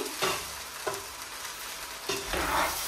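Meat curry is stirred into spices in a hot pan for meat pilau, giving a steady sizzle broken by three scraping stirs of a spoon against the pan, close and clear with no talking.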